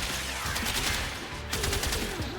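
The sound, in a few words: gunfire from the Higasa weapon in the video game Warframe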